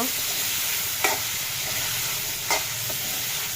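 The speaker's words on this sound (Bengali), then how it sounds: "ট্যাংরাটা একটু হালকা মশলার ভেতর কষে নেব।" Tangra fish sautéing in spice paste in a pan, giving a steady sizzle with a few sharp scraping stirs of the spatula, close and alone.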